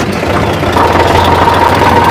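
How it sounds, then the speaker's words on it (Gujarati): A tractor engine idles with a steady, loud, even drone and faint vibration, continuous throughout with no talk. "ફાઇનલી આપણે ચલાવવું પડશે ટ્રેક્ટર."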